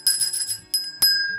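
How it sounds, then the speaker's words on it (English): A notification bell sound effect rings out, a few bright metallic dings in quick succession, loud and clean with ringing overtones and nothing else around it. "ring the bell."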